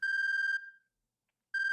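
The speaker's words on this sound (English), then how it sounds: "Just then, Kajiwara's cell phone rang." Cell phone ringing in the video game 428: Shibuya Scramble: a loud, trilling electronic ring cuts off abruptly, leaves a short silence, then starts again.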